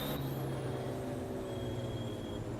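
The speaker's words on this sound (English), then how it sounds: "Truck behind having slammed the brakes on to avoid me there and nearly spins." A racing truck in the video game Formula Truck, at the Cascavel circuit, drones with engine and road noise as it brakes hard, ending with a sharp hissing burst.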